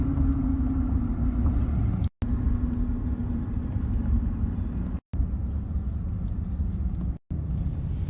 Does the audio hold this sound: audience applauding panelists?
no